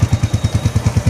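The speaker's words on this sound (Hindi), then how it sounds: "यहाँ पे हमारे अली भाई पहले गियर में डाला है, चेन की सफाई कर रहे हैं" A Hunter BS6 motorcycle runs in first gear on a stand while its chain is cleaned, giving a steady, close thumping beat of regular low pulses about ten times a second, loud and alone.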